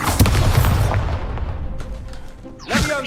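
An Expulso blasting spell going off in Hogwarts Legacy, a close booming burst that rumbles and decays over about a second, followed by a brief second impact near the end.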